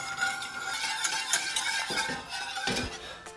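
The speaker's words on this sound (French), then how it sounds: "Alors là, on remue constamment." Spoon stirring six Carambar caramel candies melting in milk in a pan, with continuous scraping and clinking against the pan over a soft bubbling sizzle.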